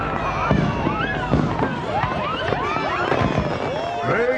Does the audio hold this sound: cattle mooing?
no